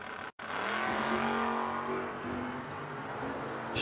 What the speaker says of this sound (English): Camaro will be leaving second, chasing down the S10 out of New Jersey.